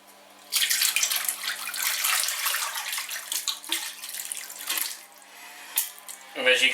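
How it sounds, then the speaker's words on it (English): Elderflower cordial being poured through a muslin bag into a bowl to strain, a steady splashing liquid stream that thins and wavers, ending with a brief clatter. "I'm going to put all the liquid into here and let it strain to the bottom."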